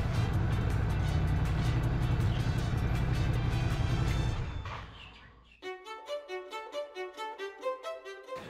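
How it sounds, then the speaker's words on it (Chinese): A big 1100cc motorcycle engine roars loudly and steadily for about four seconds, then fades away and gives way to music. "大型机车最吸引我的地方是它的引擎的声音"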